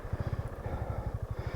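A Piaggio MP3 500 HPe three-wheel scooter starts and settles into a fast, steady pulsing engine beat, close up and moderately loud, with no voices.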